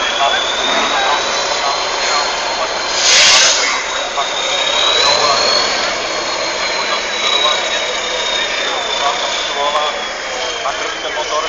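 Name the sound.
racing truck engine roaring at the Kunštát truck trial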